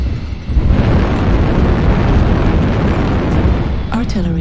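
Artillery strike explosions in a video game featuring an HBK-IIC on the Hibernal Rift map: a dense, loud, continuous rumbling barrage of blasts that sweeps in quickly and carries on without pause, with synthetic game voice alerts.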